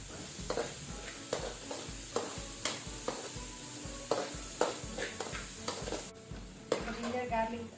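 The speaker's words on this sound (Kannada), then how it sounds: "ಜಿಂಜರ್ ಗಾರ್ಲಿಕ್ ಲೈಟ್ ಫ್ರೈ ಆಗಿದೆ." Ginger, garlic and spring onion whites frying in a pan, with a constant sizzle and a rhythmic run of spatula scrapes and taps against the metal, close and fairly quiet.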